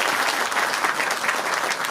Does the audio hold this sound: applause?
yes